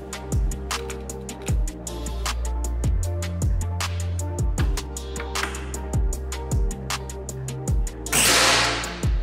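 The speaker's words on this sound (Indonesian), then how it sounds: "Oke, kita coba untuk tembakan yang ketiga." Near the end, a Daystate PCP air rifle fires a single sharp shot. Before it, a pulsing rhythmic music bed runs continuously and carries on under the crack.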